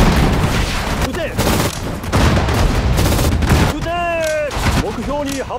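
Repeated volleys of rifle and machine-gun fire with heavy booms rattle across a World War II battle at Bataan in Sudden Strike 4, dense and loud, briefly interrupted while a voice talks.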